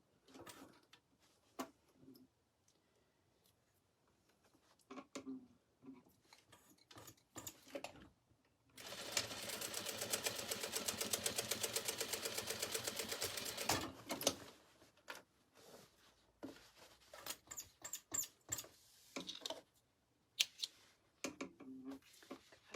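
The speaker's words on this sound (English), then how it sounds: "I'm just going to add one more little row of stitching right above this just to support that seam" A sewing machine runs steadily for about five seconds, stitching an extra support row above a seam on a canvas tote bag, framed by quiet handling clicks and fabric rustles before and after.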